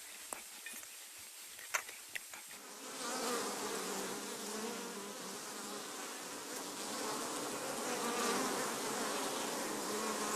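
Honey bees buzzing around newly installed colonies four days after installation, a dense continuous hum that swells after a few quiet seconds with scattered clicks, close and steady with no talk.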